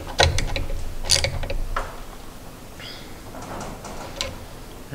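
Tightening bolts on the Z axis of an Avid CNC Router Pro 48x48: close, crisp metallic ratcheting clicks in a few quick bursts, then quieter fiddling, with no talking.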